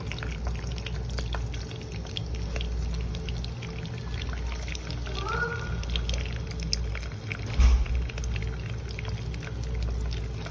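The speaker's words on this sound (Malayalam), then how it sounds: "നമുക്ക് എടുത്ത് വെച്ചിരിക്കുന്ന മീൻ അതോട്ട് ഓരോന്നായിട്ട് ഇട്ട് കൊടുക്കാം" Fish pieces go one by one into hot frying oil with curry leaves, giving a steady, loud, close sizzling hiss that continues throughout, with small pops and a brief bump of handling near the end.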